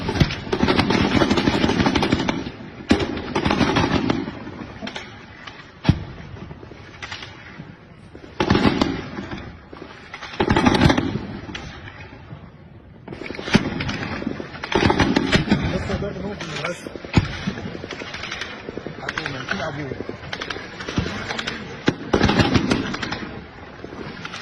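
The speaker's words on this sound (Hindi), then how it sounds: "रात भर गोलीबारी हुई है और खतरनाक गोलीबारी हुई है।" Gunfire in news footage, repeated bursts and single shots across the whole stretch, heard under continuous talk.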